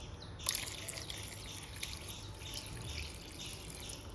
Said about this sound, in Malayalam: വെള്ളം ഇതാ നമുക്കൊരു കപ്പ് വാർന്നു കൊടുക്കാം